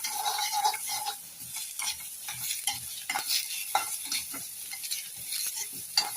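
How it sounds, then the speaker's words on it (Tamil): Ginger and green chillies sauté in a hot pan with garlic for a chutney: a steady sizzle with a utensil stirring and scraping the pan, near and continuous, with no talk. "இஞ்சி, பச்சை மிளகா 2 போட்டு நல்லா வதக்கணும்ப்பா."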